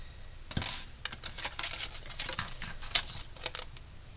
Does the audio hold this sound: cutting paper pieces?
yes